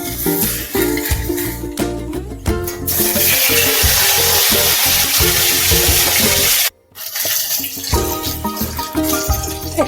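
Fish head sizzles and spatters loudly in hot oil for a fish head curry, a dense continuous crackle with scraping stirs, one brief near-silent gap, then frying resumes.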